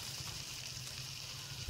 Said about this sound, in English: Hear the sizzle. I love the sound of cooking.